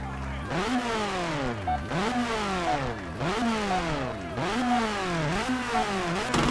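In WRC 4 at the Rallye Monte Carlo, a rally car with a smoking engine revs loudly and repeatedly. About five rising-and-falling sweeps follow in steady rhythm, close and continuous.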